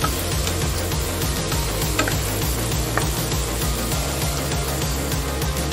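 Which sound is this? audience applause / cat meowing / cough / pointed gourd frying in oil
pointed gourd frying in oil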